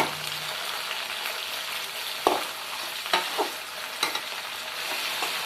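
Tomatoes with salt sautéing in a pan for a South Indian fish curry, a steady soft sizzle with a few sharp spoon clinks and scrapes against the pan.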